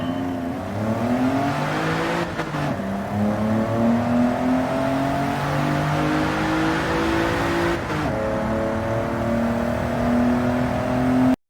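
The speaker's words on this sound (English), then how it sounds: "Launch the car at full throttle." A car launches at full throttle in Gran Turismo 7, its engine winding up loudly and steadily with a couple of brief shift breaks before rising again, close and sustained.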